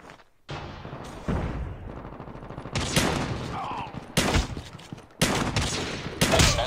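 BY15 pump shotgun blasts in the Call of Duty Mobile game, several loud separate booms spaced a second or so apart amid other gunfire and game noise.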